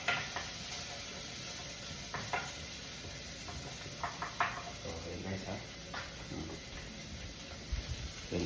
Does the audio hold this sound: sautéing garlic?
yes